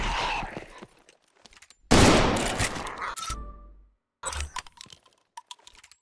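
A shotgun blast in the indie survival-horror video game Ground Zero: one loud, sharp burst with a short ringing tail, set between quieter clicks and thuds of in-game action.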